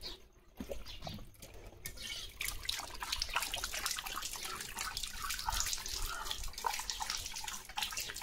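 A kitchen or bathroom tap runs steadily for a dog that drinks straight from the faucet, a close, continuous splashing stream with drips, briefly broken near the start before flowing without pause, no talking.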